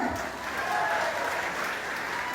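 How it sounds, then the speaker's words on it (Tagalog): A live audience bursts into loud, steady applause at a community gathering, the clapping dense and sustained throughout with a faint voice rising above it. "malakas na palakpak dyan!"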